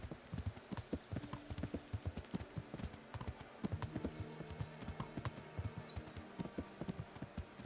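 Horse hooves trot in a steady, even clip-clop rhythm in the medieval video game Kingdom Come: Deliverance, close and fairly loud with faint ambient game sounds behind.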